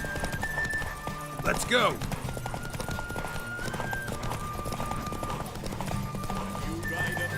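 Hooves of Roach, Geralt of Rivia's horse in The Witcher 3: Wild Hunt, clop in a steady gallop through a derby race, with a brief neigh midway and someone shouting over the rhythmic hoofbeats.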